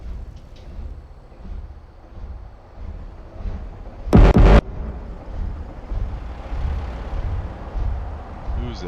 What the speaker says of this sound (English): Somebody's engine sounds sexy out here.